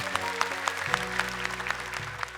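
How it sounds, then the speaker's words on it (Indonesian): Audience applause for a child who has memorized the Quran, a light, scattered patter of claps lasting a couple of seconds over a low background hum with tonal lines. "tepuk tangan dong untuk Yusuf."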